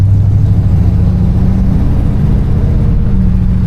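A 1973 Chevrolet Caprice engine pulls under throttle, a loud, steady low rumble with droning harmonics heard from inside the car, holding even for a few seconds without talk.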